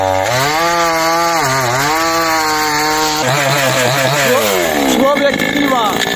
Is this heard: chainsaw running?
yes